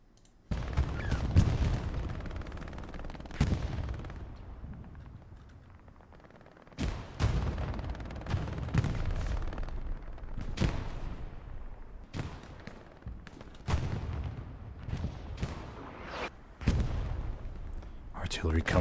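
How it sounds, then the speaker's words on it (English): Artillery shells land in the Hell Let Loose game on the Stalingrad map, with repeated loud booming impacts at irregular intervals and a rumbling tail after each one, under ongoing talk. "Artillery still falling."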